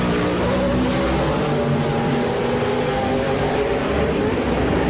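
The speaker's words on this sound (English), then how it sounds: "we are getting ready to go back to green flag racing in Crandon" Off-road race trucks at Crandon roar back to green-flag racing, their engines a dense, continuous drone that stays loud and steady throughout, with no voices.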